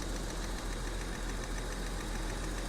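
A Jaguar XJ6 Sovereign with fuel system trouble idles rough, a steady low engine drone with faint irregular knocks and stumbles, heard close with no voices.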